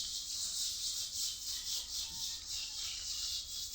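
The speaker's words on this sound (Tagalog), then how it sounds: "Maghapon na yung kuskus ng kuskus, hindi matanggal, ang hirap." Rhythmic back-and-forth scrubbing on a surface caked with stubborn dirt, close and steady, repeating in even strokes for several seconds with no talking.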